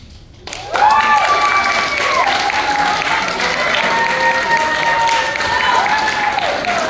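Audience in a church applauding after a missions play, loud sustained clapping that bursts in after a quiet moment and continues steadily, with a few tonal whistles or cheers mixed through the crowd noise.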